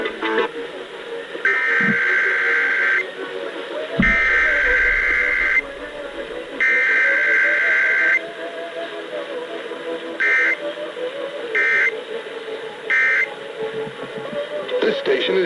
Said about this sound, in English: This station is testing its emergency alert equipment.